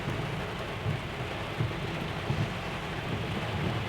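Steady heavy rain pours down in Jeddah, Saudi Arabia, in a continuous dense hiss, with occasional low rumbles underneath and no voices.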